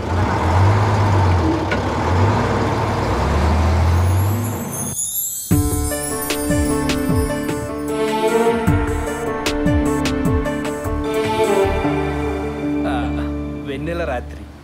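A bus travels at night with a loud, low engine drone and rumble. Midway it shifts to a tonal, music-like texture over the road noise, and voices talk over it at times.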